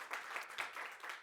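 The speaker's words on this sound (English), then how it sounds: "let's give her a round of applause for putting this event together" An audience at a Women's History Month panel event claps in a brief, faint burst of applause, with steady pattering and no talking.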